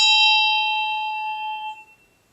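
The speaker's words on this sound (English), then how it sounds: "Now my bell is not a bell with a clapper. It has a wooden hand clapper." A metal bell struck once with a wooden hand clapper rings out with a clear, bright tone that sustains and slowly fades over about two seconds, heard alone and close.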